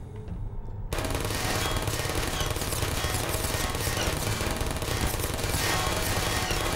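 Sustained automatic gunfire aimed at the player in the puzzle game Portal, a dense, unbroken rattle that starts abruptly after a quiet moment and keeps hammering loudly, with no voices.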